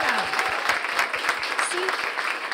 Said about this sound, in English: a round of applause, Frida